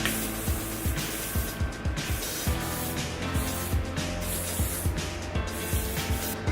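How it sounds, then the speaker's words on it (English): A steady hissing spray of hair product, close and continuous, with faint repeated clicks or taps underneath. "I just grab a little bit of finishing spray"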